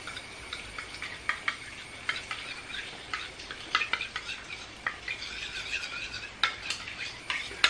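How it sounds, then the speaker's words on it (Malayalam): A spoon stirs a yellow vitamin E gel mixture in a small container, making quick, irregular light clicks and scrapes at close range, with no voices. "ഇതിനി നമുക്ക് നന്നായിട്ട് മിക്സ് ചെയ്തെടുക്കാം."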